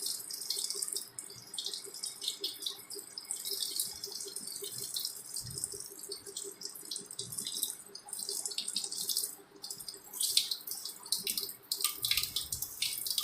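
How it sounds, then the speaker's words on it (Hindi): A tap runs steadily during surgical handwashing at a sink, the water a continuous hiss with faint splashing and drips, moderately close and with no talking. "फिर हाथ को धो लेंगे।"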